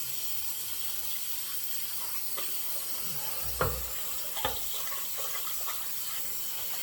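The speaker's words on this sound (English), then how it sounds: "I'll just rinse that out with hot water" Hot tap water runs steadily into a shaving soap bowl as it is rinsed out, a soft continuous hiss with a few light clunks and splashes partway through.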